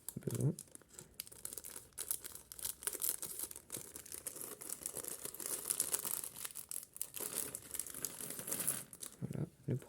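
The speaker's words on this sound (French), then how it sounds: "on va couper les petits sachets puisque nous en avons besoin" Small plastic bags from a Lego Star Wars Hoth AT-ST set are cut open and handled, making continuous close crinkling and rustling with brief tearing bursts.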